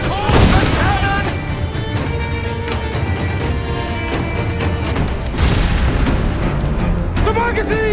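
Cannon fire from a pirate ship battle in Assassin's Creed IV Black Flag, with loud booming blasts over continuous dense battle noise and shouting voices throughout.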